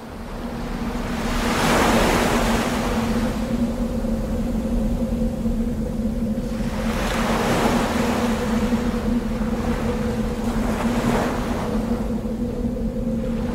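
Stormy ocean waves surge and crash in repeated swells amid gusting wind, a dense roaring wash that rises and falls every few seconds beneath a steady low hum, loud and unbroken with no voices.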